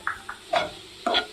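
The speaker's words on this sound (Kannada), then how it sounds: "ಇವಾಗ ಚೆನ್ನಾಗಿ ಫ್ರೈ ಮಾಡ್ಕೊಳ್ಳಿ" Grated carrot and cabbage fry in a pan for masala bread toast, with a few short scrapes of stirring over a low sizzle.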